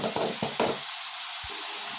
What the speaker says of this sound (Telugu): ఇది చక్కగా ఇలా తిప్పుకుందాం.